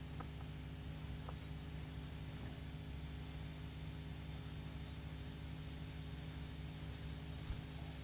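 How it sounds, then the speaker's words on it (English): A Plymouth Fury engine in The Long Drive driving game gives a steady, continuous drone with a low rumble and a faint high whine, holding an even level throughout. "So obviously this is the engine from the Plymouth Fury."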